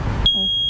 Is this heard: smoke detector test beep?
yes